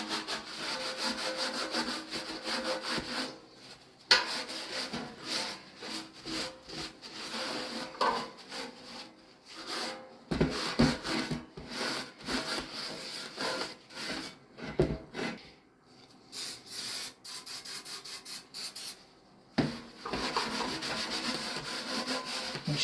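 A cloth rubs furniture wax onto a vintage metal fuel can in a workshop, making repeated scrubbing strokes that start and stop, close and fairly loud, with no talking.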